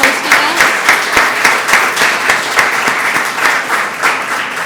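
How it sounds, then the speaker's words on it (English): Audience members at a wine bar clap for their host, a close, lively patter of individual hand claps forming a steady round of applause. "everybody gives a round of applause for our wonderful host here at"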